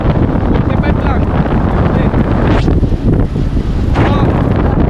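Strong wind roars and buffets the microphone steadily, a loud, rushing blast that covers everything else.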